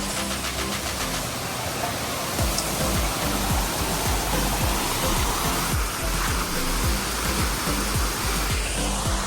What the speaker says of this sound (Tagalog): And this is our falls.